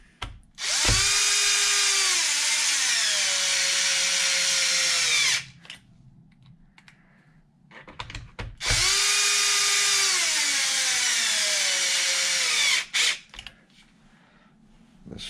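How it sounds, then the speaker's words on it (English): Power driver running long screws into a Traxxas XRT upper front bulkhead: two sustained whining motor runs, each a few seconds long with pitch dropping as the screw seats, separated by small handling clicks. "Two long screws go here."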